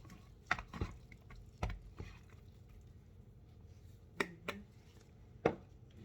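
Onion being chopped on a cutting board with a knife, a few separate knife strikes spaced irregularly, close and fairly quiet over low room noise.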